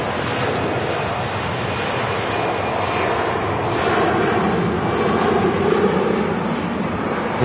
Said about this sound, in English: I can tell the first officer landed your plane, Mark, because it was smooth.